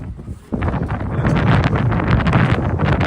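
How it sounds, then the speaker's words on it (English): Strong wind on a Manhattan street in New York City buffets the microphone in a loud, steady rumble that surges suddenly after a brief quieter moment and then keeps roaring without a break. "Oh, it's windy over here."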